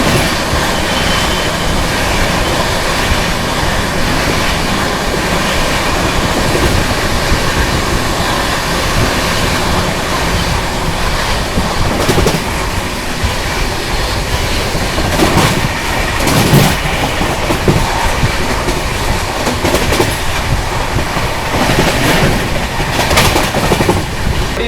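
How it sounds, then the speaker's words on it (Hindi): Bihar Sampark Kranti Superfast Express (12565) running at full speed, heard from inside a 2AC coach: a steady, loud rumble of wheels and rail with occasional rhythmic clacks over joints throughout. "अपनी बढ़िया रफ्तार में भाग रही है फ्लैट 130।"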